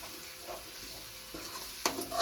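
Masala paste cooks quietly in a pan with a soft, low sizzle, a few gentle stirring scrapes and a sharp metallic clink of a spoon near the end.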